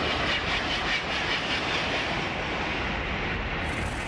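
A French TGV high-speed train rushes past with a loud, steady roar of wind and rail noise that stays strong throughout.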